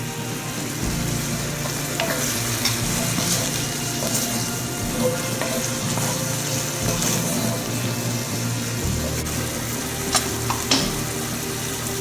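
Garlic and whole beans fry and get stirred in a hot pan for a Moroccan chermoula king fish dish, a steady close sizzle broken by occasional scraping and clinking of the utensil.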